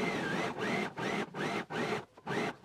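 Sewing machine top stitching the placket of an anorak, a steady mechanical whirring in five even bursts separated by brief pauses, close and fairly quiet with no talk.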